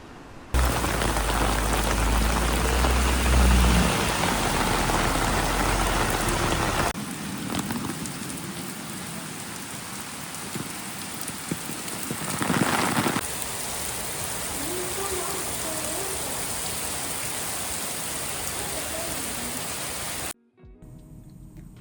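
Steady summer rain falling in Stockholm, a dense continuous hiss of drops on surfaces that stays loud and even throughout, with no voices over it.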